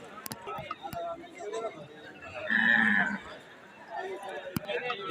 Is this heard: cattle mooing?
yes